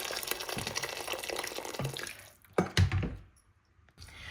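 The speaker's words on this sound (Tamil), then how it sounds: "இதை நிறைய தண்ணி ஊற்றிக்கோங்க." Hot water from a kettle pours steadily into a pot with a splashing, gurgling stream, then slows to a few drips and stops.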